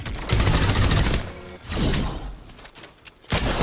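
Submachine gun fire in Fortnite striking a held guardian shield, several loud bursts of rapid shots separated by short gaps, close and sharp with no talk.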